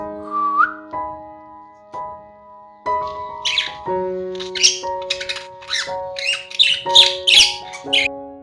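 Pet budgerigars chirp, whistle and squawk in a busy, overlapping chatter, with sharp bright calls clustering densely in the second half over a few steadier tonal notes.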